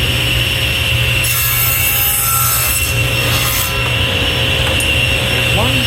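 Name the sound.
table saw crosscutting wood with miter gauge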